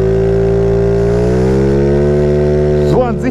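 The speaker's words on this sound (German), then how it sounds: "Also, jetzt fahren wir eine Runde." A Rex Roller 80cc scooter accelerates across an empty parking lot. Its engine whine rises steadily in pitch and holds loud and close, with a brief wobble near the end.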